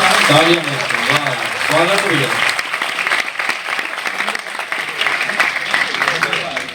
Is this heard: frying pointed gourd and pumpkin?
no